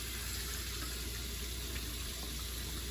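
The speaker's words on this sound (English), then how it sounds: "Now you're going to get some water running. You'd want cool water." Cool tap water runs steadily into a sink for rinsing a turkey, a faint, continuous rushing hiss with no breaks and no talking.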